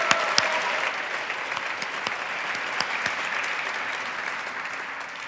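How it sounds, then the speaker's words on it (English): Steady applause from a gala audience honouring literacy award guests, a dense even clatter of many hands filling the room from start to finish with no voices over it. "let's give them all a round of applause"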